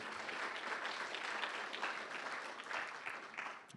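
An audience at an organic wine conference applauds, a dense, continuous wash of many hands clapping that stays fairly even and faint before tapering off at the end.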